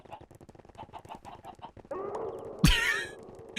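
Minecraft chickens from a modpack cluck in a quick run of short clucks, then let out a louder, squawking call near the end, close and fairly quiet overall with no speech.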